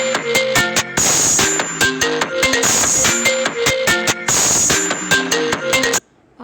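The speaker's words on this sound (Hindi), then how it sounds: "लिखा हुआ आईफोन रिंगटोन ट्रैप रिमिक्स।" An iPhone ringtone in a trap remix plays from a Samsung Galaxy S6 phone speaker: a looping melodic beat with punchy bass and hi-hats that runs loud and steady for about six seconds, then cuts off abruptly.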